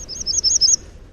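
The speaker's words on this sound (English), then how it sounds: "That's a bird called the hermit warbler." A hermit warbler sings a short, high, buzzy series of rapid notes, heard close and alone for about a second.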